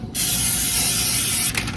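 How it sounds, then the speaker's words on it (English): A steady cooking spray hisses continuously into a 9 by 9 baking pan for about a second and a half, close and loud, then cuts off with a brief clatter. "Just take some cooking spray, spray the bottom,"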